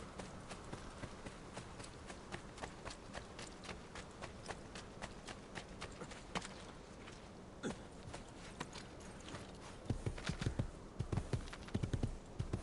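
A horse's hooves clip-clop in Assassin's Creed 2, a run of distinct, evenly paced footfalls that grow louder and denser toward the end.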